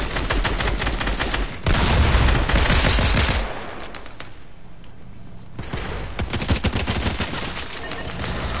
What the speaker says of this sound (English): don't you ever shoot at me again